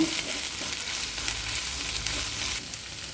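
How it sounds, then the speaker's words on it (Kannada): Chopped onion sizzles in a hot pan as Maggi is prepared, a continuous close crackling fry with faint stirring, no talk. "ಈರುಳ್ಳಿ ಸ್ವಲ್ಪ ಫ್ರೈ ಆಗಬೇಕು"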